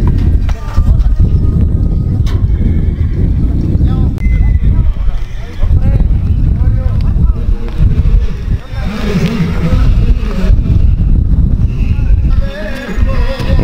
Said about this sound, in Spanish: Una raza de caballo sigue llegando, mira.